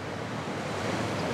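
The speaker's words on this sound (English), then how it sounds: "Ocean." Atlantic ocean waves washing onto a beach on Ireland's west coast, heard from a tower, a steady broadband surf roar with wind noise across the microphone, continuous and fairly loud throughout with no voices.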